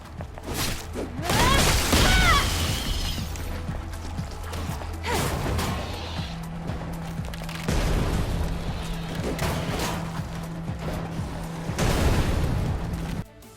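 Heavy video-game explosions in Stellar Blade on PS5 boom and crash in repeated waves, a loud layered roar of blasts and debris with a steady mechanical hum underneath.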